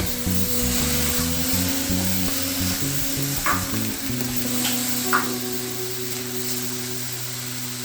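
Pork curry meat mixture frying over medium heat with a steady close sizzle, while a spoon scrapes and stirs it, leaving a few short clinks and scrapes over a low tonal background hum.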